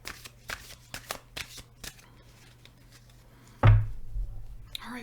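Tarot cards are shuffled up close in several quick riffling bursts. A louder knock or thud lands near the end.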